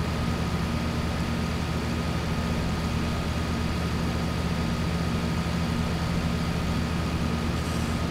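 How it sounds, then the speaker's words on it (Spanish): Tractor engine in the video game Farming Simulator 2011, a steady droning hum with a low rumbling tone that holds evenly and continuously throughout, with no other sounds over it. "fijaros que el sonido es el mismo estando entre el tractor que fuera"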